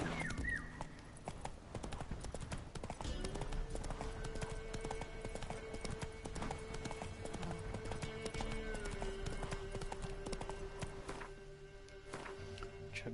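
Hooves of Roach, the horse in The Witcher video game, clip-clop in a steady walking rhythm, close and clear, with a faint sustained tone and scattered game sounds underneath throughout.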